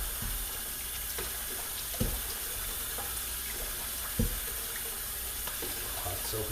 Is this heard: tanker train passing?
no